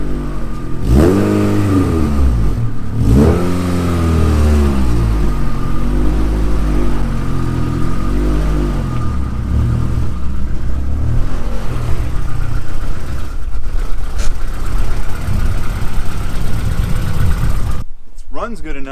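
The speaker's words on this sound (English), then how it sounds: "We're going to move the car to the side of the shop" A Honda Civic engine idles and revs steadily at close range as the car is moved, with rising and falling pitch sweeps early on and a continuous mechanical drone before it cuts off abruptly near the end.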